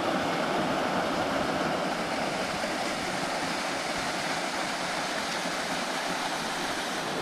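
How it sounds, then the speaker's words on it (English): A waterfall and stream in the Caney Creek Wilderness of the Ouachita National Forest, a loud, constant rush of falling and flowing water with no voices. "so we made it to the waterfall"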